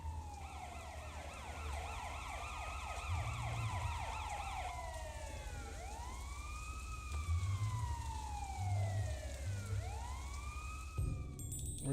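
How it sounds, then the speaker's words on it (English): A car siren in the video game Sleeping Dogs wails, rising and falling in repeated sweeps, then shifts to slower, deeper swoops over a low rumble, loud and close with no talking. "It's that siren from the car he can't find."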